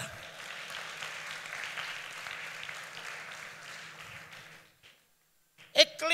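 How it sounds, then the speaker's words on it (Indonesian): Applause from a church conference congregation fills the hall for several seconds, a steady wash of clapping that fades into a brief silence before a short burst of noise returns. "Beri tepuk tangan buat Tuhan kita"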